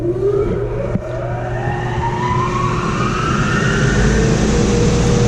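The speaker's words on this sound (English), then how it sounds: "the first thing you're going to do is turn on the blower" Central lab blower system starting up for a Virtus Equipment SG 1400 purge test, a loud steady whoosh with a rising whine that climbs in pitch as the motor spins up, a brief click near the start.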